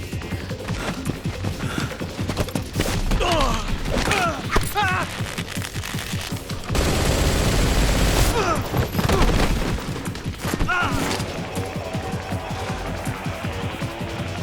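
Gunfire rattles through a tense Metal Gear Solid Delta: Snake Eater firefight, with bursts of shots mixed with engine rumble and a long, dense roar in the middle, while voices shout over the din.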